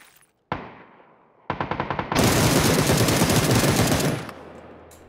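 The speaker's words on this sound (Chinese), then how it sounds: "所以还是开枪打" Gunfire from the video game PUBG: two single shots followed by a rapid automatic burst, loud and close, lasting a couple of seconds before fading.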